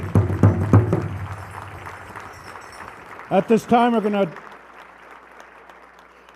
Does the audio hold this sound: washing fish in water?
no